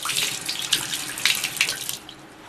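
Water from a tap splashes onto a makeup sponge held under the stream, a bright hissing flow with uneven spattering bursts that eases off near the end.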